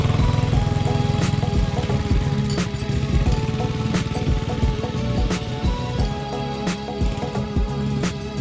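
A small Chinese 110cc Model 3050B youth ATV engine runs close by with a steady, buzzy putter, revving up and down with rhythmic pulses and occasional sharp knocks, no talking.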